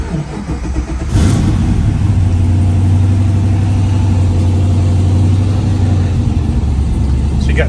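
A 1972 Chevrolet Camaro with an LS3 V8 cranks and fires at close range, then settles into a loud, rumbling idle with slight revving throughout.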